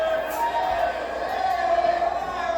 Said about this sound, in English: A great fight crowd here.